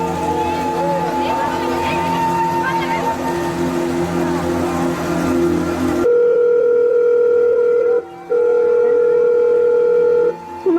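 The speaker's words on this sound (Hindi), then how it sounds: "अभी के अभी अपने बाप को फोन लगा" A busy, noisy room gives way to a steady telephone ringback tone heard close through a phone line, repeating in long pulses with short gaps.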